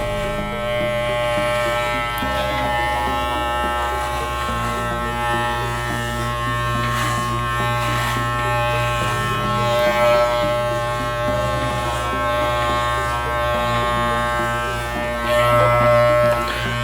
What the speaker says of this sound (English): Let me just shave the back part one last time.